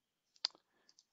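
A computer mouse clicks a few times in quick succession, sharp and close, with short gaps between the taps in an otherwise quiet room.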